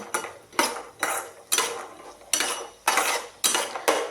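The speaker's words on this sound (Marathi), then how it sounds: "हे बघा छान असं परतून घेत आहे" Cashews sautéed in a pan over a gas flame, heard as a regular series of about nine loud metallic scrapes and clinks of a spoon against the pan, each stroke close and distinct, with no voices.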